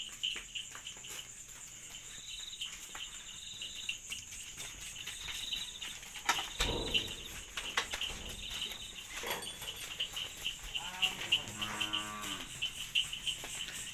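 Karapan sapi racing bulls being led out of their pen at night in a village, with a low moo, shuffling and thuds amid a steady chorus of crickets and faint birdsong.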